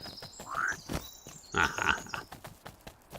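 Frogs croaking in the indie video game Tall Trails, several short rising calls over busy game sounds and music, at moderate loudness.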